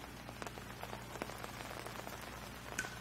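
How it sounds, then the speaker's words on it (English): Steady rain patters on surfaces at a high school baseball game between Holliston and Ashland, a dense, even hiss of drops with scattered sharper taps and no talk. "And now the rain really picking up."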